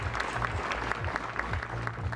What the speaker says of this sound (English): the nationwide applause for Captain Sir Tom as his family leads tributes to the man who raised millions for the NHS